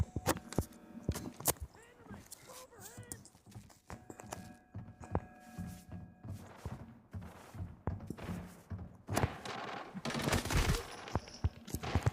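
Gunfire in the shooter game Arena Breakout during a motel battle, with scattered sharp shots and short bursts, some near and some distant, mixed with footsteps and clattering game noise.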